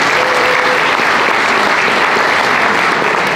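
Rally audience at a statewide gun-rights event clapping loudly and steadily, a dense wall of applause filling the whole stretch with no voices standing out.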